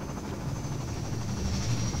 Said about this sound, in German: Irgendwo kommt jetzt der scheiß Hubschrauber.